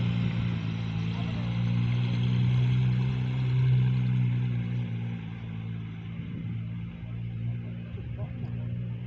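A Porsche 911 GT3 RS idles nearby with a steady, low, droning engine rumble that swells slightly and then settles. Voices can be heard faintly in the background.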